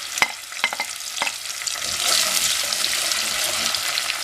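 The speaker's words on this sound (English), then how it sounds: "So I'm going to allow the onion to saute for about 2 minutes." Chopped onion hits hot red palm oil in a pot while making yam porridge, a few sharp stirring clinks giving way to a steady, bright sizzle of frying.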